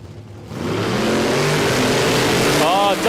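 Drag racing car launching down the strip at a Queensland Drag Racing Championships round, a loud engine roar rising fast and holding steady, with a pitch sweep near the end.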